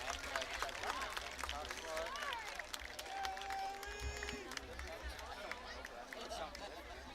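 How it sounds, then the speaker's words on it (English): A crowd at a high school football game applauds and cheers for the Unioto High School Marching Shermans band, a broad distant wash of clapping and chatter heard faintly, with an announcer's voice over it. "give one last round of applause for Unioto High School Marching Shermans"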